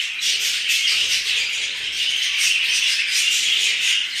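A flock of birds released into a large aviary cage, giving dense continuous high chirping and tweeting close by with no talk.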